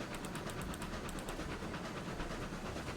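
Locomotive rolling along the rails in the RailRoads Online video game, a steady hiss and rumble with faint regular clicking of wheels over track joints, continuous and even throughout.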